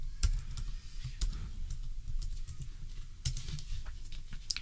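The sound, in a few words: typing a formula on a computer keyboard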